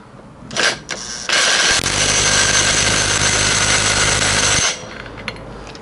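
A socket tool tightening a bolt on a Honda XR600R engine, with a few clunks followed by a loud, sustained mechanical whirring burst of about three seconds that then cuts off, close up.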